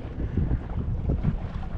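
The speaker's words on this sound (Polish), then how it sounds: "wiatr wieje" Wind gusts across the microphone beside a small inflatable boat on open water, a low rumbling buffet that swells and fades over a couple of seconds with no talk.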